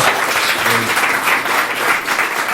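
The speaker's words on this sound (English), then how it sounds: "You all clapped way too early." An audience at a privacy and security conference breaks into sustained applause to welcome a speaker, a dense, loud wash of many clapping hands continuing steadily throughout.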